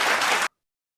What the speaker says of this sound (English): So let's give another round of applause to everyone.